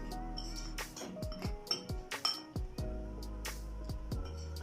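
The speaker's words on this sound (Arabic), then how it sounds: "نقلب بقى الناشف ده كله مع نفسه" A spoon stirs dry chocolate-cake ingredients with a pinch of salt in a bowl, giving a quiet, irregular series of bright clinks and pings against the bowl's side, close and alone.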